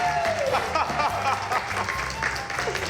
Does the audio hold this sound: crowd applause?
yes